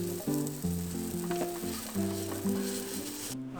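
Onions frying in oil in a kitchen pan, a faint steady sizzle running underneath a soft layered musical backing, with no voices.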